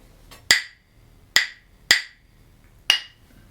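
A bottle struck four times as an example of an impulsive sound: sharp bright knocks, each decaying quickly, at irregular intervals with silence between, close and clear.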